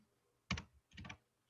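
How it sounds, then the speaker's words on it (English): A computer keyboard gets two short bursts of quick, close keystrokes separated by a brief pause, crisp clicks over a quiet background with no talking. "I'd rather listen to you type"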